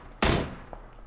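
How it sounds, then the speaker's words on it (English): A single loud burst of gunfire in PlayerUnknown's Battlegrounds rings out close by, with a softer trailing echo and a faint later crack. "Jesus, how many fucking bullets do I need to kill this guy?"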